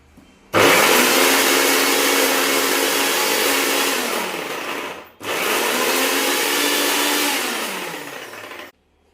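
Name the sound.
mixer grinding green chili masala paste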